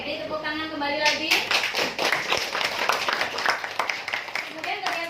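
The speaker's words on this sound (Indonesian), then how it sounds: "beri tepuk tangan kembali lagi." Students in a classroom give a burst of hand clapping, close and busy, starting just after a short stretch of talking and running for several seconds before a voice comes back in.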